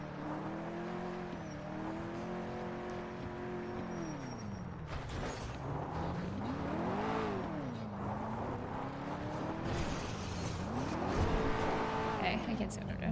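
Car in a GTA role-play game driving and sliding on dirt, engine tones rising and falling continuously with skidding tire noise, while a person talks over it throughout.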